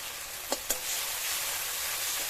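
Spice paste of ground dried red chili being fried for a village-style katla fish biryani, with a steady close sizzle and hiss, broken early by two quick scraping knocks of a spoon against the pan.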